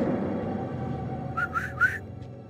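Three short rising whistles from a character in the video game House of Ashes, set in a dark tomb-like throne room; they come in quick succession over a low ambient rumble, with a faint fourth note trailing off.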